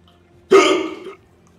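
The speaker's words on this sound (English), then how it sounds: "I don't know why the hiccup started now." A single loud, close hiccup jolts out abruptly and trails off into a short voiced burst, heard alone against a quiet background.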